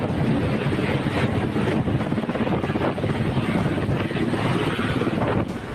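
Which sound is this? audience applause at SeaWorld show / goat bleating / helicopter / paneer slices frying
helicopter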